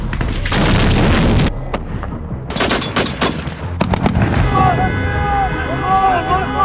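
Rocket launchers and machine guns fire in loud bursts, sharp booming blasts and rapid cracks, with a voice speaking over the later part.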